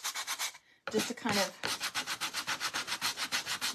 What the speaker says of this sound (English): we're gonna use the sanding block and we're gonna sand this down just a little bit